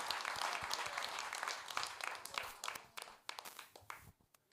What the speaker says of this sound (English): please give those guys both a round of applause